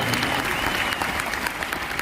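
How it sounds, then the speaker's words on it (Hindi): Steady, dense applause from a crowd at a company's 20th-anniversary event, loud and continuous throughout with no voices standing out. "जोरदार तालियां होनी चाहिए"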